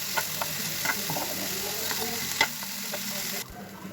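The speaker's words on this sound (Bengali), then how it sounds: "বীজগুলো দিয়ে দিলাম দিয়ে খুব ভালোভাবে কষিয়ে নেব" Broad bean seeds for a mashed bharta are stir-fried in a pan, with a constant close sizzle, repeated spatula scrapes and clicks against the pan, and a sharp tap before the sound drops away.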